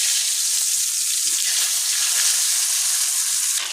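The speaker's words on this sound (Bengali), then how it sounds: "আলুগুলো ভেজে নেব" Potatoes sizzle and fry in hot oil in a wok for a Bengali home-cooked dish, a loud, steady, close hiss throughout with faint clinks beneath and no speech.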